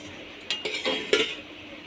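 A metal pot lid lifted off a pot of boiled soybeans and potatoes on a home kitchen stove, two or three brief clanks and scrapes of metal close by, with a soft hiss of steam between them.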